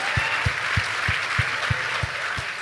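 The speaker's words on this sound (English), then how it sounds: "don't we get a clap for that?" Audience applause at a panel discussion on Def Jam's music, film and fashion legacy: a steady wash of clapping from a crowd, with one close, evenly spaced clap thumping through it.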